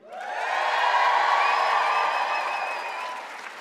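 A school audience of teachers and other attendees at a live talk cheers, whoops and applauds loudly in a sustained burst that swells quickly, holds steady, then fades slightly toward the end.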